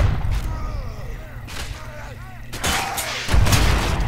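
Blunderbuss shots in the medieval combat video game Chivalry: a few heavy booming blasts, with a loud one near the end, set among battle noise and ringing swipes. Someone talks under the action.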